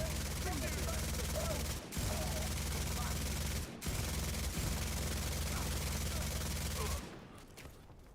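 Rapid sustained gunfire in The Division 2, a dense fusillade of shots filling the scene for about seven seconds with two brief breaks, then cutting off to quieter game ambience.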